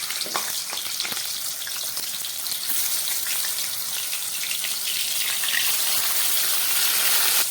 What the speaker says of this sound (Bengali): এবার আমি মাছগুলোকে ভেজে দিচ্ছি।